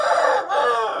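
A rooster crows in a loud, drawn-out harmonic call with a short break partway through, alongside young chicks of the flock; no voices.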